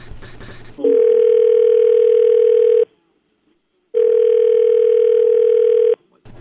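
Two long, steady telephone tones during a call on a radio show, each about two seconds with a silent gap between, loud and close, after brief talk at the start.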